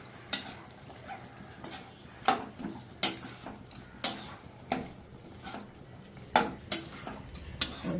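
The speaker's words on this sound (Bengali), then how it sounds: "এবার চিকেন কিমাটা দিয়ে প্রথমে একটুখানি এটার সঙ্গে মিশিয়ে নেব।" A spoon scrapes and clinks against a pan as chicken mince gets stirred into a masala, regular sharp knocks roughly every second over a faint sizzle, close by and without speech.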